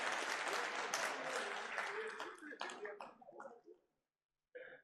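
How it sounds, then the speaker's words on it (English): An audience at an aerospace industry event in India gives a round of applause that is full at first, thins out and stops, then after a short silence a brief burst of sound returns at the end. "Huge round of applause, ladies and gentlemen."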